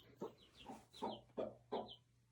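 A broody hen clucks in a chicken coop, giving five low, close, evenly spaced clucks over a faint steady hum.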